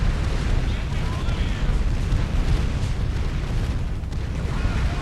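Continuous heavy rumble of explosions as units and buildings, including Torrents, Zeus units and a vehicle factory at a base, are destroyed in a real-time strategy video game; a dense, steady roar with talk over it.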